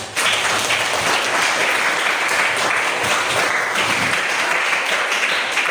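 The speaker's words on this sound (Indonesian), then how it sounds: "Mari kita beri aplaus" An audience applauds after a group presentation in a classroom or meeting room, a dense, sustained clapping from many people that stays steady and close with no talk over it.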